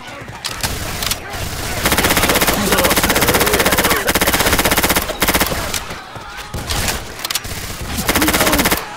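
Rapid automatic gunfire rattles in dense, loud bursts in the co-op zombie shooter Left 4 Dead 2, with brief gaps between volleys and voices calling out under the shooting.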